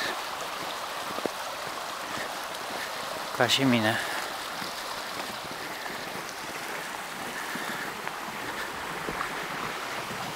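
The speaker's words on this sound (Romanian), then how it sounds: "Se poate auzi susurul izvorului" A spring burbles in a continuous, even rush of water near a bridge outdoors, with a short spoken phrase briefly over it.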